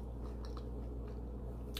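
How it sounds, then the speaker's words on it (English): Crunching of spicy fried chicken being chewed close to the mouth, soft repeated bites over a steady low background hum, quiet and with no talking. "But you hear that crunch?"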